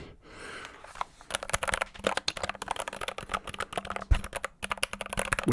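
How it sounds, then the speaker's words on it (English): Typing on a mechanical keyboard fitted with Gateron Pro brown switches, a dense run of close, crisp clacks and taps in quick irregular bursts after a brief rustle at the start. "They have Gateron Pro brown switches, I think. And I love brown switches. They sound so good."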